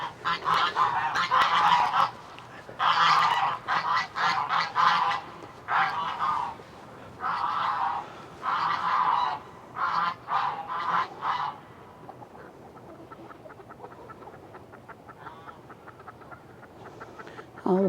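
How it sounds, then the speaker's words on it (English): A flock of farm chickens gives loud, repeated squawking bursts in quick succession for about ten seconds, then fades to quieter, scattered clucking. "All a bunch of chickens."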